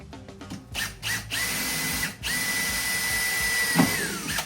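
A power drill starts in short bursts, then runs at a steady whine boring a pilot hole into metal for a golf cart, close and loud, before slowing as it stops.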